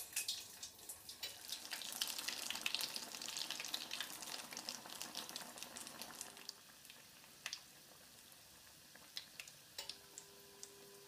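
Salt cod fishcakes (bolinhos de bacalhau) frying in oil in a small pan, a dense crackling sizzle with ticking spatters that eases after about six seconds into quieter popping, with no talking.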